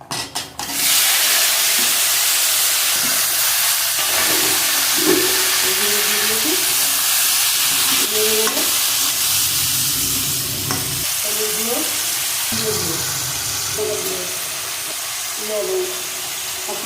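Vegetables fry in a pan with bay leaf and panch phoron for a jackfruit-seed chorchori, giving a loud, steady sizzle with stirring scrapes throughout while a voice talks faintly over it.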